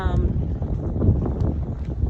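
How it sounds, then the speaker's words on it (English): Strong outdoor wind buffets the microphone throughout with continuous low rumbling gusts, while a voice talks close by. "it's actually really windy."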